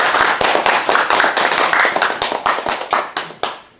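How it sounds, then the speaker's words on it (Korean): A crowd applauding, loud close clapping with sharp individual claps standing out, gradually thinning toward the end. "박수 칩시다"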